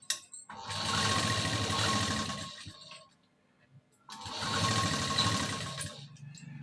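Sewing machine stitching the tuck on a katori blouse, running in two loud, steady bursts separated by a brief pause, close to the microphone with no talking.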